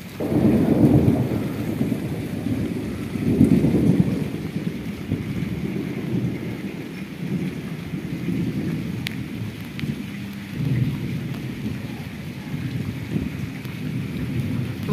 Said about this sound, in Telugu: వర్షం అయితే పడుతుంది కదా, ఇప్పుడు పడతలేదండి, చినుకులు పడుతుంది అనమాట